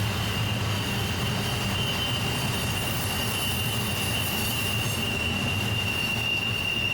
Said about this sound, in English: one of my favorite features of these trains that battle the mountains, the helpers.